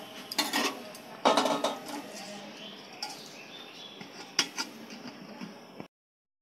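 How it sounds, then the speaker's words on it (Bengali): A lid is set onto a pot of Bengali chicken curry (murgir jhol) in a home kitchen, giving a few sharp metallic clinks and clatters over a soft background hum. "এবারে একটু ঢাকা দিয়ে দেবো।"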